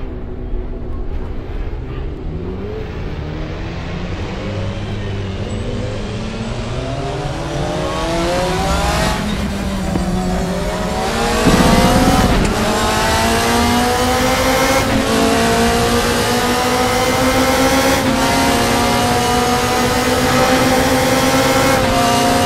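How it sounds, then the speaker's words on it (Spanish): A BMW M3 GT2 race car engine in the RaceRoom racing game, driven around the Nordschleife, roars loudly and continuously, its revs climbing through repeated gear shifts, with a brief burst of tyre noise midway. "El vídeo no será comentado para que podáis escuchar el sonido del motor."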